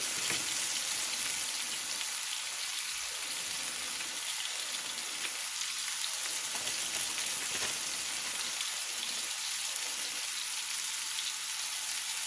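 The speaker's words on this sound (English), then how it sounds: "Curry powder is been added and cooking. Turkey is added as well." Turkey and curry powder sizzle in a pan, a constant close crackling fry that carries on without a break and with no voices.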